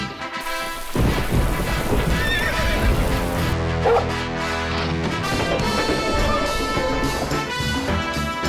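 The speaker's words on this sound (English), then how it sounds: "The final horse for this year's hits team is Thunder." Clydesdale horses neigh loudly and close by, with shrill whinnies over a rich, full backdrop. A few hoof clops and a heavy crash-like thud mix in.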